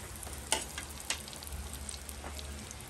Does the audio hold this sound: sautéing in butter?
yes